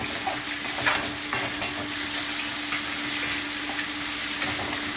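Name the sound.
stirring papaya in a pan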